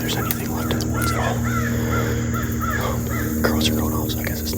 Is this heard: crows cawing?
yes